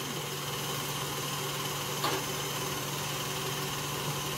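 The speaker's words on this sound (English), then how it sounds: "We're just using the KitchenAid here, huh?" A KitchenAid stand mixer with the whisk attachment whips cream at speed six, a steady close motor drone with a brief louder pulse partway through.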